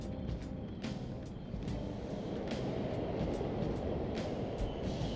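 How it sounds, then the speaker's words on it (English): In the video game Persona 5 Royal, a subway train arrives with a loud, steady rumbling roar, broken by a series of sharp rhythmic clacks from the wheels as the cars roll past. "The train is here."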